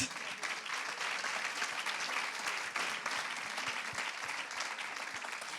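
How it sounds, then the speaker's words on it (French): Sustained applause from an audience at an award ceremony for a young women's achievement trophy, steady dense clapping throughout with no voices on top. "Eh ben ça s'applaudit encore."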